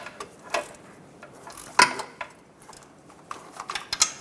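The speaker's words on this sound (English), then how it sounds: "go around and torque it to 15 foot-pounds" A torque wrench tightens nuts on the oil cooler line of a 2014-2019 Toyota Highlander, sounding as scattered close metallic clicks and ratchet ticks with a sharp snap midway.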